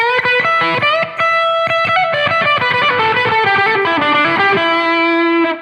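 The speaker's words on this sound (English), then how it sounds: "now let's have a listen to it with a bit more gain added to it." A heavily distorted electric guitar, a Sire Larry Carlton H7 on the bridge pickup, plays a quick melodic riff, bright and biting, with sustained notes ringing out at the end.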